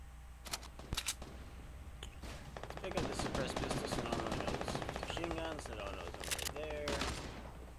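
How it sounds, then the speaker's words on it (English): Fortnite shotgun blasts, a few sharp reports early on, then a denser stretch of rapid gunfire and clatter, fairly faint and mixed with game effects and some talk. "Shotgun."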